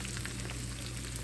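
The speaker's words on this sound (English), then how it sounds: "I fry them down pretty hard" Pieces of bacon fat fry hard in a pan with a steady, even sizzle and faint crackles throughout, heard alone with no talking.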